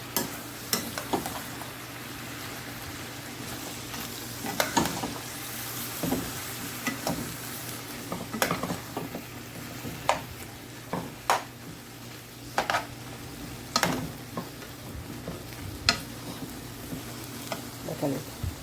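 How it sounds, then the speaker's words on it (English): Spaghetti pasta stirred through a sizzling pan, with a steady frying hiss underneath and repeated scraping, clattering stirs breaking through at irregular intervals, close up and with no talking. "Just pour in your pasta, your spaghetti pasta. And just stir it in."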